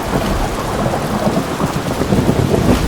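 Heavy rain with rolling thunder, a dense continuous downpour and deep rumbles filling a short sound effect, loud and close with no voices.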